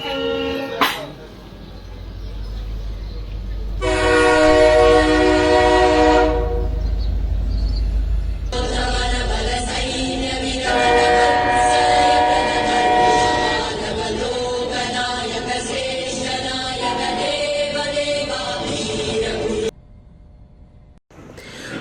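A train pulls into Kamakhya Junction in Guwahati with a rumbling rattle, and its horn blares twice in long, loud blasts before the noise cuts off near the end.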